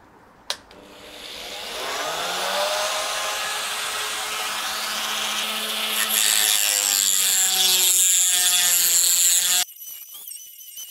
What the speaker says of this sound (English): use it's like a multi-tool with a bit of a grinding slash cutoff wheel on there